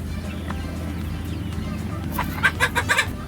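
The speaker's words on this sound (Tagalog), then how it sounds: "mga manok panabong sila" Gamefowl chickens cluck in short bursts, growing louder and more frequent toward the end, over a low background hum and faint distant noise.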